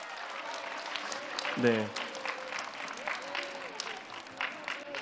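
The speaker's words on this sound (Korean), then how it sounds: "큰 박수로 격려하겠습니다" An audience claps steadily throughout, a room full of hands, while a single voice briefly speaks over it.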